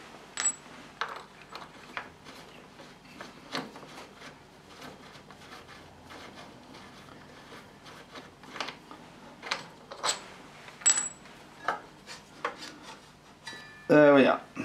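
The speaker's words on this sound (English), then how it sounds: "You just need to take out these two bolts and then slide the caliper off the disc." Brake caliper bolts being removed from a Triumph Scrambler 1200 motorcycle: scattered metallic clicks, taps and scraping of tools and parts at close range, ending in a brief louder rattle.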